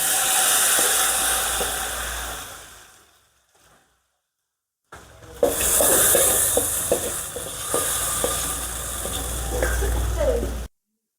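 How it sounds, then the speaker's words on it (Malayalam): Hot mustard seed tempering is poured over a tomato and dried prawn curry: steady loud sizzling and steam hiss, a short near-silent pause, then a sudden burst of vigorous crackling sizzle that continues up close. "കടുക് വറുത്തു ഇനി നമുക്കത് മുകളിലേക്ക് ഒഴിച്ചു കൊടുക്കാവേ"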